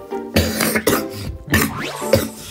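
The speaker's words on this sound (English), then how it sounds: "I actually didn't get it while I was coughing." A person coughs in several harsh, close bursts, roughly four separate coughing fits over a couple of seconds with no speech between them.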